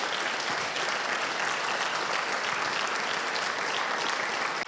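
A large audience applauds steadily and loudly throughout, dense continuous clapping filling the hall with no break.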